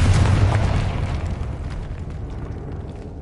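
A video-game Confringo blasting spell goes off with a single heavy explosion, a low boom at the start that decays into a rumbling tail over about three seconds.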